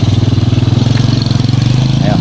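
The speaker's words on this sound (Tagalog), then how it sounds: "Ito yung motor na kuan. Ingat, patakbuhin mo nga." A motorcycle engine runs steadily and loudly up close, its throbbing pulse continuous through the clip, with the faint edge of a voice near the end.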